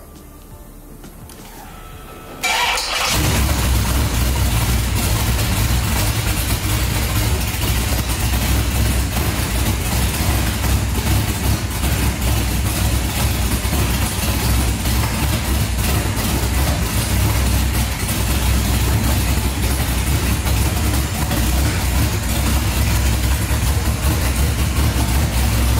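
A Holden VS Clubsport with a swapped LS1 V8 starts for the first time and settles straight into a loud, steady, rumbling idle that holds close and unbroken to the end.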